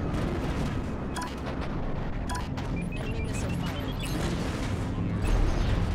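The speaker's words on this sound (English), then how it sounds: "Stop firing missiles at me." Missiles fired at a player's spaceship in Strike Suit Zero rumble as muffled, repeated explosive thuds and booms under dense space-combat noise, growing louder toward the end.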